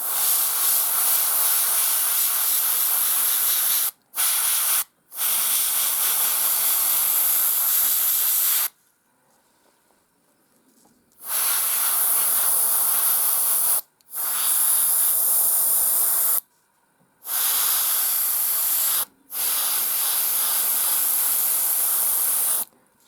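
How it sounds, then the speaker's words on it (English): Desert-colour paint sprays from an airbrush onto model bases in a steady close hiss, in several long bursts broken by short pauses and one longer silence. "build it up nice and gently with the airbrush"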